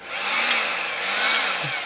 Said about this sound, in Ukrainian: фен зібрав, все працює